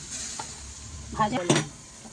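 Water hits a hot pan of fish curry with ridge gourd, potato and spices, giving a couple of short, close sizzling bursts with stirring.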